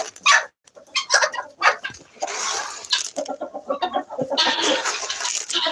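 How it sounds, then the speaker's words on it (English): Guinea fowl squabble and chatter over scattered scratch grain on a drizzly morning, a busy close flock of harsh calls and clucks with bursts of rustling pecking throughout. "See, that's all the guineas wanted."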